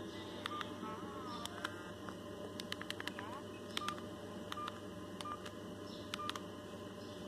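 A series of electronic telephone keypad tones beeps in short, irregular bursts, some quick together and some spaced apart, over a faint steady hum.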